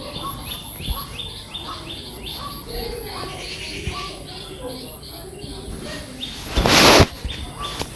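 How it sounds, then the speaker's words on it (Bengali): Several birds chirp and call in a busy afternoon outdoor chorus near a home, with repeated short tweets throughout and a brief louder burst of noise near the end. "বিকেলবেলাও আমাদের বাড়িতে এইভাবে পাখি ডাকে পাখিদের কলতান"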